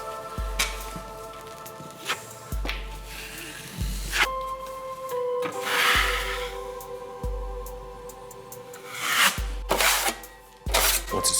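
Joint compound being spread over a drywall patch: soft scraping and smearing strokes of a knife, repeated at a steady pace, close and fairly quiet, alongside faint clicks and a low hum.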